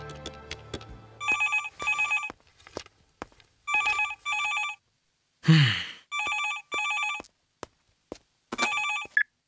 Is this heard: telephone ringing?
yes